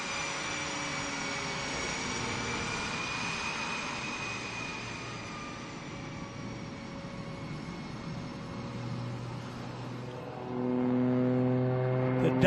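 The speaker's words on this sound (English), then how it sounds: "Now rolling the aircraft in the knife edge flight." A plane flying aerobatics at the Hill AFB air show gives a continuous, steady engine drone with shifting tonal whine, moderately distant, then swells louder toward the end as it rolls into knife-edge flight.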